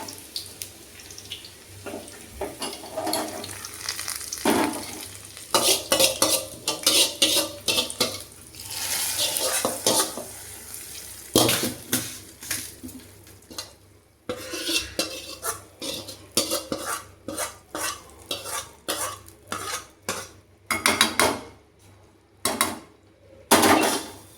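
Sautéed onions are scraped into a pot of mushroom curry, bringing bursts of metal clatter and spoon-on-pot knocks between quieter gaps, close by and with no talking.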